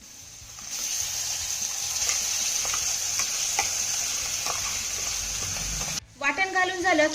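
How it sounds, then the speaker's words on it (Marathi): Ground masala paste is stirred into sizzling oil tempering, giving a loud, steady close sizzle broken by soft scraping stir clicks; a voice briefly speaks near the end. "तेलामध्ये चांगलं मिक्स करून घेऊया"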